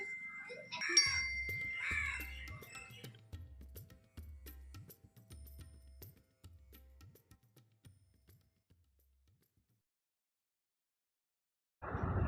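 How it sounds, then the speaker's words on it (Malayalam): A bell hung on the neck of a Mahishi statue at a Kerala temple is struck repeatedly, giving a series of metallic dings that gradually thin out and fade into near silence, with a few voices early on and a loud burst at the end. "മഹിഷിയുടെ കഴുത്തിലിട്ടിരിക്കുന്ന മണിയടിക്കുകയാണ്"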